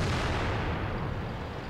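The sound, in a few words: KV-2 tank gun firing, from video game World of Tanks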